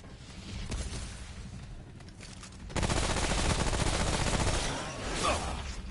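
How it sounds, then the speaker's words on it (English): In the video game Remnant: From The Ashes, an enemy slams its spear into the ground and sets off an explosion, a sudden loud burst that erupts into a dense rumbling, crackling barrage lasting several seconds amid combat noise. "They slam their spear into the ground and cause like some weird explosion."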